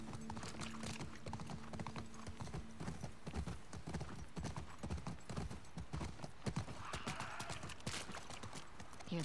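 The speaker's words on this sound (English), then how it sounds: "Don't want the horse to jump over that." Horse hooves clopping in a steady, fast rhythm across ground in The Last of Us Part II, close and clear throughout with no talking over them.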